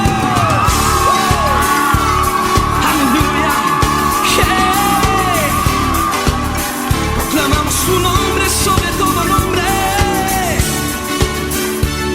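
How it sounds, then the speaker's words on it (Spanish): A church congregation erupts in a loud, sustained wave of joyful shouting, whooping and cheering, with many overlapping voices filling the room throughout. "Dale un grito de júbilo."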